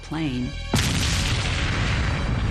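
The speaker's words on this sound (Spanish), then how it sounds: "Se produce otra explosión" A sudden explosion at an aircraft crash on Tenerife bursts in as a loud, broad roar that keeps rumbling, preceded briefly by a voice.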